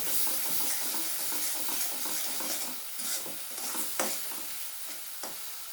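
Tomato and turmeric fry in a pan for a Bata fish curry with a steady, close sizzle and hiss, with a few scraping stirs and knocks of a spatula against the pan.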